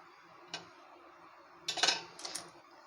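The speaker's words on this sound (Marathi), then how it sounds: "अंड्याला अशी चीर पाडून घेऊया" A knife scores three or four slits into boiled eggs before frying for an egg curry, giving a few short, sharp taps and scrapes against a plate or board, quiet and close, with no talk.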